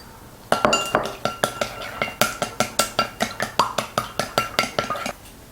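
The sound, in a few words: beating eggs with cornstarch slurry in a bowl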